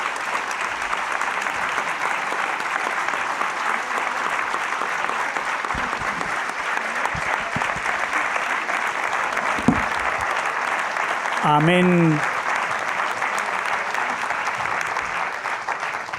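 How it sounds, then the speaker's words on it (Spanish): Thunderous, sustained applause from an audience after a talk on media and public opinion, dense and even throughout, with a brief spoken word rising over it near the end. "podemos pasar a la ovación atronadora para agradecer a esta gente que haya sido tan brillante."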